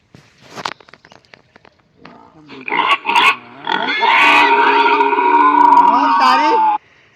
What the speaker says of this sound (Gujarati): ભૂંડ બોલાવો કે રીતે